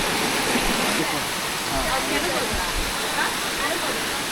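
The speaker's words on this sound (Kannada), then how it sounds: "ಇದೇ ನೋಡಿ ಹ್ಯಾಂಡ್ಬಾಲ್ ಫಾಲ್ಸ್" A waterfall near Devaramane, Karnataka, running with low water on a crowded Sunday, gives a steady, close, hissing roar that fills the whole stretch without a break, with faint voices of people in the background.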